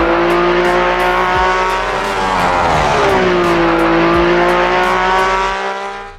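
A Brabham BT46B Formula One race car engine screams at high revs, a loud sustained whine whose pitch dips and climbs again as it powers past, fading away at the end.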